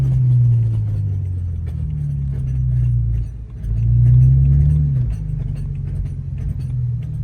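A BMW 335xi engine with a broken front CV axle joint revs up and down in two swelling surges, a low droning rumble that rises and falls without the car seeming to pull away.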